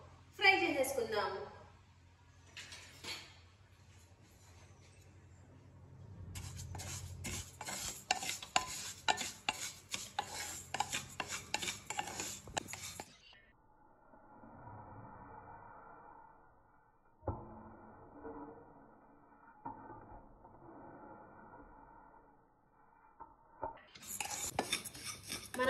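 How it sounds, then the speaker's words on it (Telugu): Wheat semolina stirred in hot ghee in a pan, a long run of scraping, clinking spoon-against-metal strokes with soft sizzling, broken by pauses and quieter stretches where a voice talks. "దీన్ని మంచిగా కలర్ చేంజ్ అయ్యే వరకు ఫ్రై చేసేసుకుందాం"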